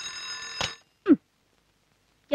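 An alarm clock rings loudly with a bright, bell-like tone for under a second in a morning wake-up scene, then stops and leaves short soft sounds and silence.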